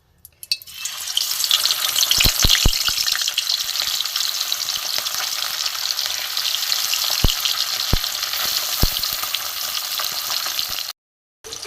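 Bata fish, coated with salt and turmeric, frying in hot white oil in a wok, giving a loud, steady, close sizzle with a few sharp clicks, stopping abruptly near the end.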